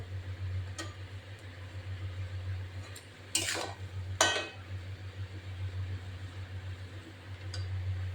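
Cabbage with plenty of green chillies, meant for a fish-head dish, is stirred in a pan: two short scraping strokes of a spatula stand out over a steady low hum.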